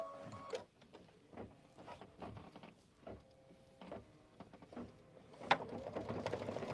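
A sewing machine works through a decorative stitch on fabric for a Kimberbell project. Quiet mechanical clicks and short whirring bursts come in an uneven rhythm, ending in a louder continuous run.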